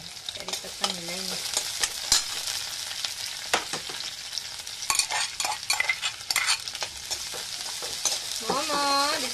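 Curry leaves crackling in hot oil while cooking banana stem with kali dal, a busy close sizzle and spitting with repeated stirring scrapes throughout.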